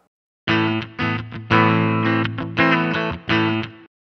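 A distorted, effected instrument plays a short series of sustained chords through serial-path reverb, a reverberant wash, each note cut off in a choppy rhythm.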